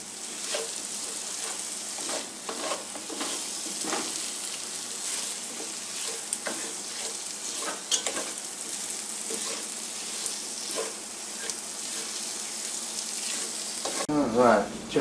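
Spaghetti meat sauce with tomato sauce being stirred in a pot on a stove fire: a steady close sizzle and bubble runs throughout, broken by irregular scraping strokes and a louder clatter at the very end.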